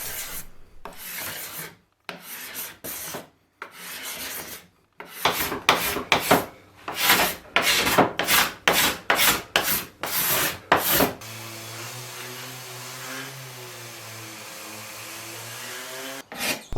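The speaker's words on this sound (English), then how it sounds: "I'll use a card scraper to take the excess epoxy off the material, and then give it a quick sand." A wooden shelf is worked by hand after excess epoxy is scraped off, with rhythmic close rasping strokes in quick repeated bursts, followed by a steady humming machine drone toward the end.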